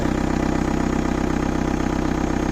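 A homemade 4x4 tractor engine running as the tractor moves slowly, a loud, close, steady low throbbing chug with an even rapid pulse and no breaks.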